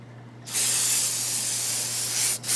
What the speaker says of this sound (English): you can use silicone spray near your computers, near anything.